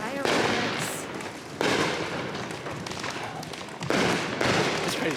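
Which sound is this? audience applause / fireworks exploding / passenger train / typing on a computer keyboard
fireworks exploding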